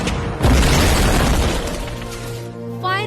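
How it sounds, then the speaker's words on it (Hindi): Loud booming explosions and bursts of enemy gunfire, a dramatic war-film sound effect from a surgical-strike story, heavy and close with rumbling low end, fading slightly before another burst. "लेकिन उसके पहले दुश्मनों ने एक रूटीन फायर शुरू कर दिया।"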